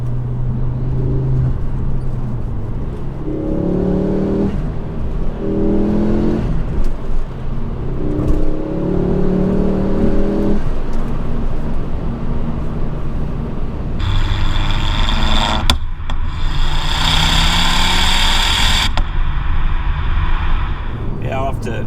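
A Ford Focus RS MK2 MP350 with a steady idle and short bursts of revving from the exhaust, loud and close, with someone talking over much of it.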